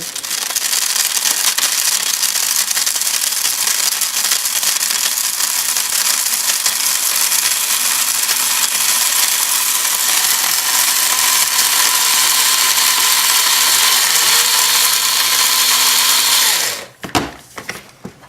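A kitchen grinder pulverises dried chickpeas into flour with a loud, continuous high-pitched whine and a grinding roar. It runs steadily for about sixteen seconds, then stops abruptly, followed by a few clunks.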